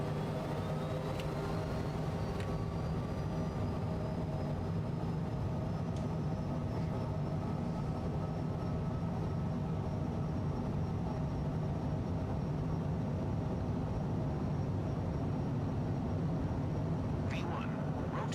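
An airliner in Flight Sim 2024 spools up for takeoff, a steady, loud jet engine roar with a rising whine holding throughout, heard from inside the cockpit.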